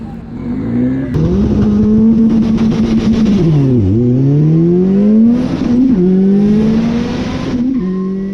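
Loud, close screaming engine of a VW Bug built on an MR2 chassis at a drag strip, rising and falling through several sharp revs and shifts over several seconds.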